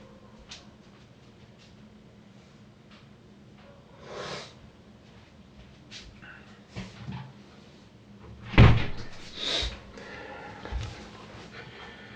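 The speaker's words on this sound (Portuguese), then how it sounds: "Só um momentinho que eu vou fechar a porta" A door is shut in a quiet house late at night: soft shuffling and small knocks, then one sharp thud as it closes, followed by a few quieter bumps.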